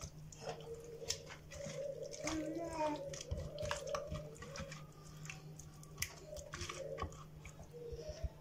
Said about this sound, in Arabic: مكاينش ما احسن من التخليطه ديال اليد. صافي، غادي ندخل العطريه مزيان في الدجاج.